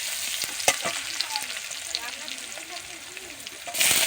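Chopped green chili and onion frying in hot oil in a pan for a fish dish, giving a steady close sizzle with stirring scrapes and a sharp clink near the start.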